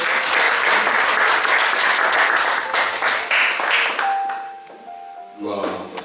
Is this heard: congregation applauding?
yes